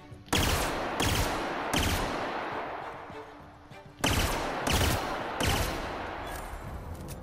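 Enemy gunfire in The Outer Worlds, loud bursts of shots arriving in two clusters of sharp cracks with ringing decay between, no talking.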